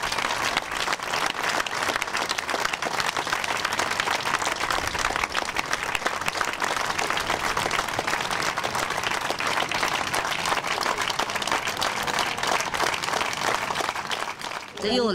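Steady applause from a political gathering of M5S activists, sustained clapping at an even level throughout, with faint speech coming in only at the very end.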